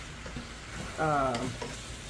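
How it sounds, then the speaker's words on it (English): Sweet potatoes, zucchini and Cajun sausage stirred in a non-stick skillet with avocado oil, giving a short, close scraping stir over a soft sizzle, with a louder scrape about halfway through. "Give that a nice stir."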